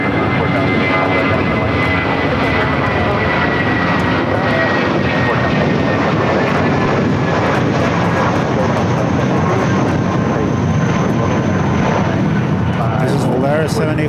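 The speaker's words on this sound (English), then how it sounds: "This is Volaris 7855 going back to Aguascalientes. 9-year-old Airbus A320." A nine-year-old Volaris Airbus A320 jet airliner heading to Aguascalientes roars loudly at LAX, a sustained engine rumble with whining tones, and voices talk over it.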